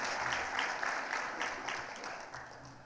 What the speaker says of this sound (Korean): 권사님에게 격려의 박수 한번 드리겠습니다